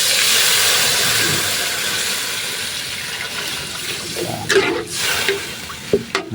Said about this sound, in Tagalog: Lagyan natin ng tubig mga idol.